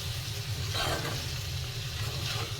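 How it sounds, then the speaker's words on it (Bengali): Water lily stems frying together with small puti fish in a pan give a steady, close sizzle and hiss that runs the whole time, with no talking. "সেই শাপলা ভাজি করছি"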